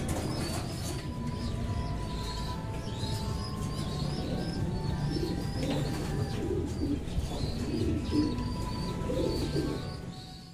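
Racing pigeons released from a loft at an event, with steady soft cooing and scattered chirps over a continuous outdoor din and faint wing flaps throughout, no talking.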